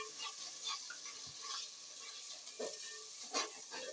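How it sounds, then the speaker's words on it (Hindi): Masala being fried and stirred in a pot for restaurant-style beef nihari, a soft steady sizzle with light scraping stirs and a few clinks, moderately close and fairly quiet, with no talking. "मसाला डालने के बाद इसको ज़रा अच्छी तरह भून लूँगी"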